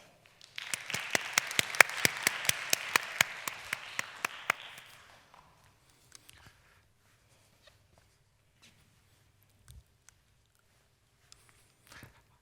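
Audience applause at a GovTech startup pitch final, welcoming Michael Groves, CEO of Topolytics, onto the stage: a burst of clapping for about five seconds, then fading to scattered footsteps and a near-silent room.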